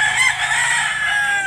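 A rooster on sale at a poultry market in Consolacion, North Cebu, crowing in one long, loud, continuous call.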